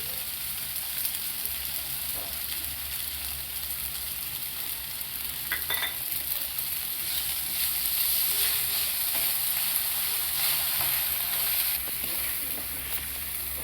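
Chopped eggplant fries in a pan with salt, giving a steady, continuous sizzle and hiss with a few faint utensil scrapes; no one speaks.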